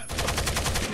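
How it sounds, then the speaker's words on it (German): Rapid gunfire in the tactical shooter Rainbow Six Vegas 2: a dense, steady automatic burst of shots at roughly even intervals, loud and close, filling the whole second without talk. "Jetzt wurde geschossen."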